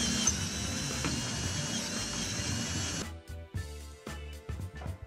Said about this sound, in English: just drilling from one side and then flipping over and drilling to the other side